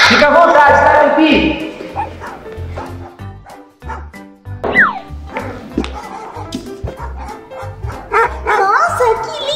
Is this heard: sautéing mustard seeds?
no